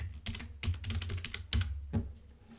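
Rapid, uneven clatter of keystrokes on a computer keyboard while entering a text label in an infographic, with bursts of clicks separated by short pauses, close and fairly quiet, no voices.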